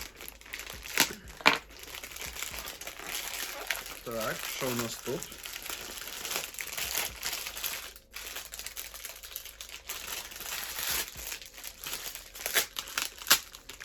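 Plastic and paper packaging from a lost postal parcel crinkles and rustles in bursts while being opened, close up and fairly loud, with someone speaking briefly between the crumpling sounds.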